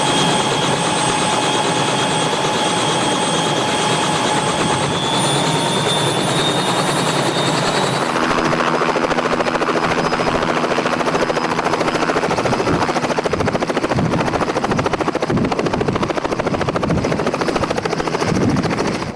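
A Robinson helicopter takes off over a park, its loud steady rotor thump and engine whine filling the whole stretch, the pitch shifting partway through as it lifts and climbs, close and continuous with no talking.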